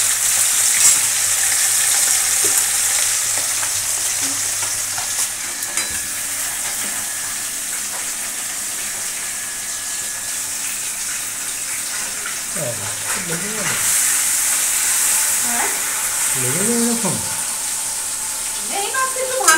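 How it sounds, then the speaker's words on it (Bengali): Rohu fish frying in hot oil: a steady, bright sizzle with crackles that carries through, close by, while a voice speaks briefly over it near the end. "আর রুই মাছটা ভাজা হোক"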